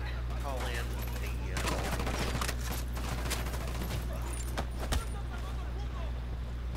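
Mortar fire in a video game sits under steady battle noise with scattered gunfire and low rumbling. Several sharp blasts and thumps stand out, with one low boom near the end.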